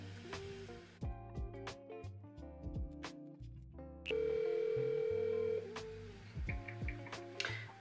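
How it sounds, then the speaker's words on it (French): A telephone ringback tone sounds during an outgoing call: one steady, sustained tone lasting about a second and a half, set against soft plucked musical notes in the background. "on y va maintenant avec l'appel, c'est parti"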